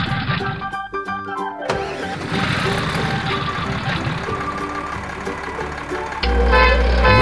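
Toy yellow quad bike in a children's colour-learning app, a cartoonish engine start followed by a busy revving motor with musical tones, growing louder at the end.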